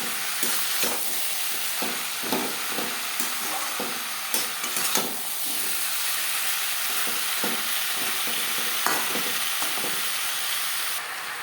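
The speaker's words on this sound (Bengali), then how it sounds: "মশলার সাথে আলু বেশ ভালো করে মিক্স করে দেবো।" Potatoes stirred into spices in a frying pan while cooking a silver carp curry: a steady oily sizzle runs throughout, punctuated by repeated clicking scrapes of the spoon against the pan at a brisk, uneven pace.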